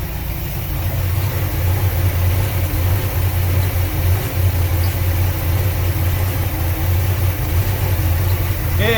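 The inboard engine of a 1992 Sea Ray Sundancer 230 boat idles with a steady, low, even rumble that holds level throughout, and there is no talk over it.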